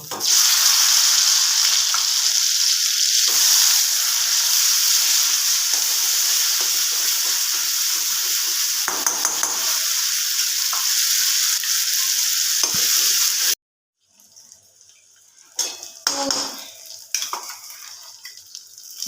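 Ground spice paste frying in hot oil with garam masala powder for an egg curry, a loud continuous sizzle with stirring scrapes; after a sudden cut, quieter intermittent spatter and utensil clatter follow.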